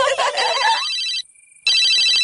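A cartoon phone message alert rings out as a bright, electronic chiming melody, loud and close, breaking off briefly before a second burst of the tone returns.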